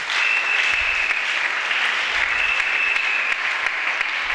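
A church congregation bursts into loud, sustained applause and acclamations during a worship service, a dense, steady wash of clapping with cheering and a shrill whistle rising above it.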